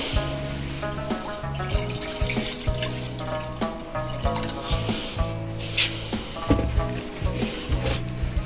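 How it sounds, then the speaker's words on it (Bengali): Water runs and splashes into a cooking pot set up for boiling noodles on a gas stove, with clinks of the pot and utensils in a home kitchen, steady and close throughout. "পানি দিয়ে নেব"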